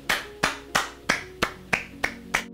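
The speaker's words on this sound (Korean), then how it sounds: "박수!" Eight sharp, evenly spaced claps ring out close and crisp in a steady rhythm, each striking cleanly with a short decay, during a tool giveaway for a Narion 16.8V impact driver.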